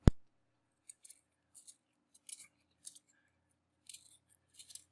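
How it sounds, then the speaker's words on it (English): Pencil sharpener cutting into the wood of a soft graphite sketching pencil, heard as a sharp click followed by short scattered crunching and shaving bursts, close and fairly quiet. "the sharpener is just digging into the wood a little bit"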